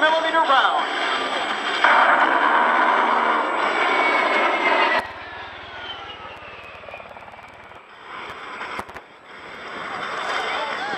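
An A-10 attack jet flying an airshow demonstration, a loud broadband engine roar for the first five seconds, then dropping to a quieter distant rumble with a sharp burst near the end, with a voice commentating throughout.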